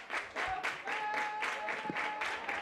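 A crowd at a municipal football stadium claps in repeated rhythmic waves during a San Pedro against Alhaurín de la Torre match, a steady mid-distance patter with a faint tone running underneath.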